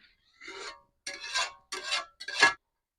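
A spoon scrapes through thickening homemade tomato sauce in a pan, four separate rasping strokes, close and fairly loud, with silence between them.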